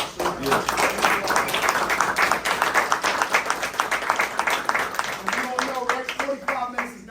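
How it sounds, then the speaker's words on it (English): A round of applause closing a workshop at a gun violence awareness event, with brisk, rhythmic clapping from a group continuing for several seconds while voices talk and call out over it. "Round of applause for all of y'all"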